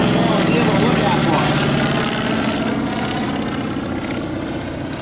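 A World War II SBD Dauntless dive bomber roars past at a Pacific-themed warbird airshow, its loud piston-propeller drone steady and close, slowly fading over five seconds, with commentary talk underneath.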